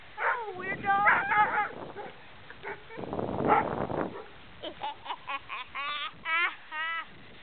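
A dog yaps and yips in short, high bursts, loudest toward the end, while a person talks over the earlier part.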